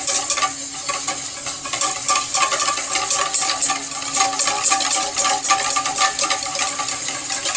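A fork beats mayonnaise in a bowl as oil is added gradually, giving a fast, steady scraping and clicking rhythm that runs unbroken and fairly loud throughout, with no voices.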